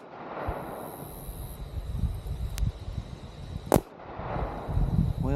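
A Glock 43X MOS pistol fires SIG 147 grain ammunition outdoors, giving a few sharp, widely spaced cracks over wind noise.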